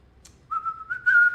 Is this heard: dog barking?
no